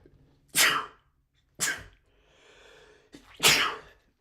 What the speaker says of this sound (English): I'm gonna sneeze before I explain the rest of this.